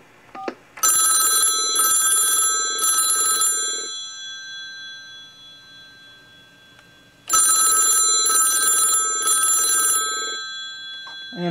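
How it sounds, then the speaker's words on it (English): A telephone rings a distinctive ring pattern from an anti-telemarketing device in two distinct bursts, each made of three quick rings in a row, separated by a long silent pause. "Now for a demonstration of the different distinctive ring patterns available."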